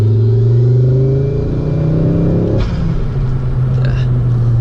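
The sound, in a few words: Ford Focus ST Mk2 engine accelerating under turbo boost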